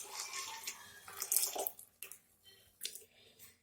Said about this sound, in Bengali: দুধটা ঢেলে দিচ্ছি।